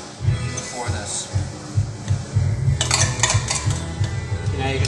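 A spoon stirs and scrapes beans with their juice in a pot, making repeated rhythmic clinks and scrapes against the bottom while a person talks over it.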